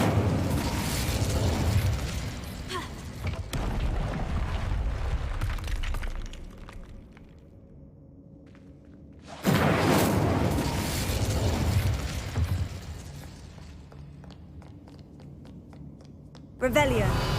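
Incendio fire spell cast in Hogwarts Legacy, a loud whooshing burst that roars for several seconds, drops to a low rumble, then flares again with another blast and a final short burst, with voices talking through it.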